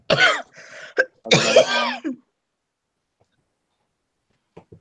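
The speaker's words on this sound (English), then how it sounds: "Coughing, genuine or otherwise" A couple of rough, throaty coughs and throat clearing up close, followed by near silence with a faint click at the end.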